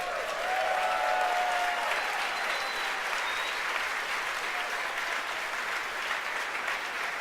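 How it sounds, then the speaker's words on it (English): Crowd applause and cheering during a SpaceX Falcon Heavy launch carrying Arabsat, steady and sustained throughout, with a few faint whistles near the start. "You can hear the applause behind me as we've gotten past maximum dynamic pressure"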